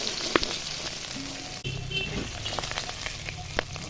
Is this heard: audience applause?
no